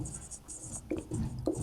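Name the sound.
writing with a pen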